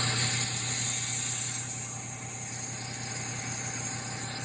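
A ProtoMax abrasive waterjet cutter starts its cut, giving a loud, steady high-pitched hiss and whine with a constant mechanical hum underneath, continuous and unbroken throughout.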